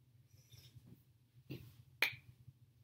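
Quiet room with a child's reading lesson nearby, where a few soft, scattered finger snaps ring out, the last one sharp and crisp, over a low background hum.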